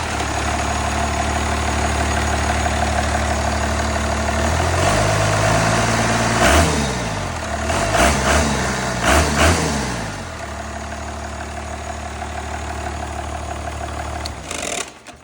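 A 12-valve Cummins diesel run on a stand-alone wiring harness idles with a steady low, throbbing clatter, briefly revving and rising in pitch midway before settling back to idle, then cutting off at the end.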